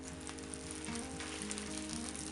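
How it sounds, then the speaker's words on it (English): Butter sizzles in a non-stick pan over low heat, a steady soft crackle and hiss that runs evenly throughout with a low hum underneath. "Put some butter."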